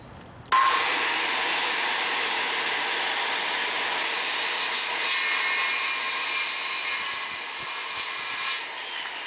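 A power saw cuts through wood while shaping a tenon for a garden bench, starting abruptly and then holding a loud, steady whining roar for about nine seconds with no one speaking.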